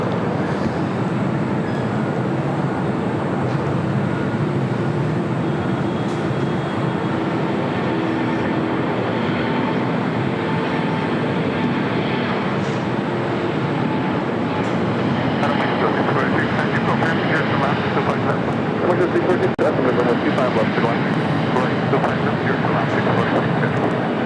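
An Aeromexico Boeing 787-9 Dreamliner arriving at LAX airport from Mexico City gives a steady, broad jet roar that builds slightly louder in the second half, with faint voices under it.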